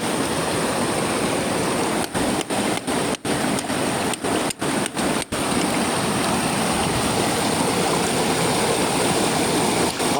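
Stream water rushes steadily over rocks after heavy rain at a jade-mining site, a loud, close, continuous broadband roar with a few brief dips near the start and no talking.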